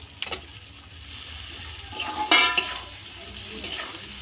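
Small chopped onion pieces drop into hot oil in a pan for egg dopiaza, giving a soft sizzle with a sharp burst of frying and a few utensil scrapes.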